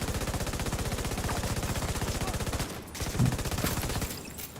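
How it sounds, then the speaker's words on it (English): Rapid automatic gunfire in a shooter video game, a loud, fast, even burst aimed at a railing, then breaking into scattered shots and clatter. "Shooting the railing there."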